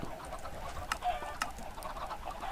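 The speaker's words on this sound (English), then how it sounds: "there was a chicken that grew up in there" A Minecraft chicken on an automatic cooked-chicken farm clucks in short, repeated game sound effects, a few quick clucks over a steady low background hum.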